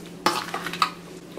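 Eggplant choka ingredients are mixed in a bowl, with a sharp utensil clink followed by a few short scraping and stirring knocks, close and brief, with no talking.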